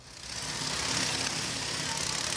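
A steady engine drone with a broad rushing roar, swelling slightly at the start and holding constant, like a motorbike running nearby.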